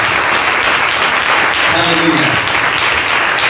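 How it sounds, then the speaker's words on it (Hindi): Congregation applauding during a Sunday church service, a thick, steady roar of clapping with voices and shouts mixed in, loud and sustained for the whole stretch. "जोरदार तालियां खुदा के कलाम के लिए।"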